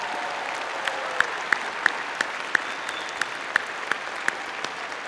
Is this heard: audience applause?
yes